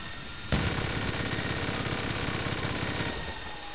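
Automatic gunfire in GTA Online: one long rapid burst of rattling shots starts abruptly, runs for about two and a half seconds, then stops, loud against quieter game background.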